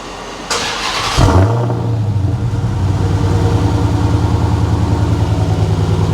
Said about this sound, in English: let's just start the Hellcat and then here the Hellcat.